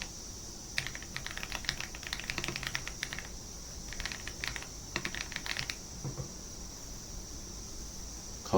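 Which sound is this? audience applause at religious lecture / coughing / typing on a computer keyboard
typing on a computer keyboard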